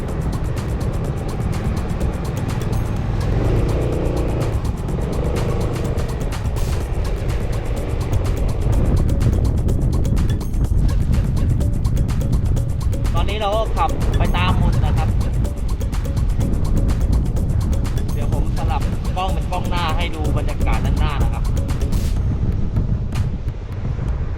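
A vehicle rides to a restaurant near a technical college in Yala on a food delivery run: a steady, loud engine and road rumble with wind buffeting runs throughout, with brief rising engine surges.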